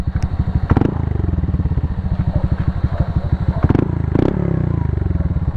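A motorcycle with a stock engine and T4S aftermarket exhaust pipe revs loudly and close, its low throttle blips repeating in a steady pulsing rhythm, with brief clattering knocks sounding alongside.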